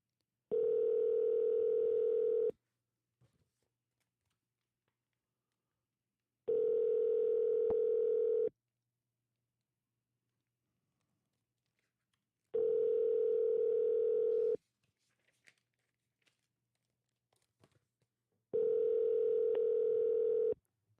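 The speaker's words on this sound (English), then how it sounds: "all I have to do is push the dial button, and it calls 3 lines" A phone dialer calling three lines plays a steady dial tone in four separate bursts of about two seconds each, evenly spaced with quiet gaps and faint clicks between them.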